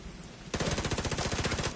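A P90 submachine gun fires in The Division 2: a single sustained burst of rapid, evenly spaced shots, loud and close, starting abruptly after a quiet moment.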